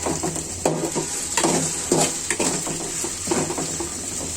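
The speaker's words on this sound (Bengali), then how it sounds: "এটা আমি মাংসটা কাঁঠাল কষিয়ে নিব" Beef and raw jackfruit are stir-fried in a pan, with a constant sizzle broken by repeated scraping stirs and clatters of the spatula against the pan, roughly one every half second to second.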